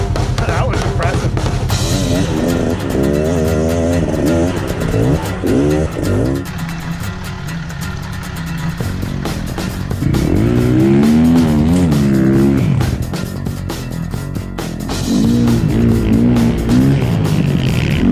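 RZR Turbo mini trophy trucks tear along off-road, their engines loudly revving and rising in pitch with repeated acceleration bursts, close and continuous, with a brief tire squeal and a voice speaking at times.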